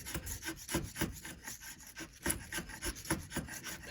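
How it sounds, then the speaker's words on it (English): A sharp carpenter's chisel pares thin shavings off wood, worked one-handed, giving close, repeated raspy scraping strokes in a steady rhythm that continue throughout with no talking. "It just pulls little shavings off each time. Sharp chisel, that's why."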